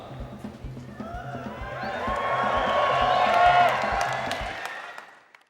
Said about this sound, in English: The audience starts whistling and cheering and clapping